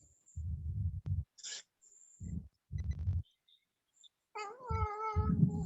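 A house cat gives a drawn-out meow near the end, close and clear, after a stretch of soft thumps and rustles as a child plays with it indoors.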